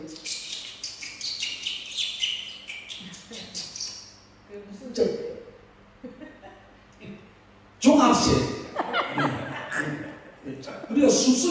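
Birds chirp and tweet in bright bursts while people talk and chuckle nearby, the birdsong returning strongly near the end.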